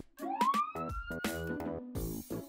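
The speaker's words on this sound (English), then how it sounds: "Police car." A cartoonish police car siren sound effect in a children's alphabet vehicle sequence, with a rising wail followed by choppy, toy-like horn and music bursts, loud and close, with no talk.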